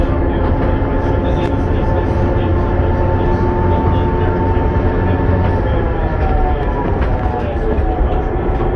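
Heritage train on the Nene Valley Railway hauled by steam locomotive 45596 rumbles along steadily, loud and close, with a constant rolling roar and faint tonal squeals from the wheels.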